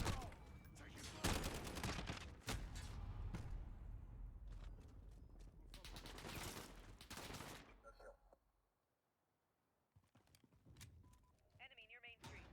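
Bursts of rapid gunfire and heavy shots crackle in a Battlefield-style shooter game, dense at first, then a brief lull before scattered shots and radio-style voices return.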